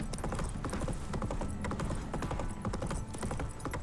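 Roach, a horse in The Witcher 3: Wild Hunt, trots with a steady, close clip-clop of hooves that runs continuously and loudly throughout, with no talking.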